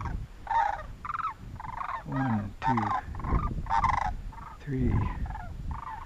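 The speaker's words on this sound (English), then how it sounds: "About 9 sandhill cranes just flying over." About nine sandhill cranes flying overhead at a camp give loud, rolling bugling calls in overlapping bursts, with a voice briefly counting underneath.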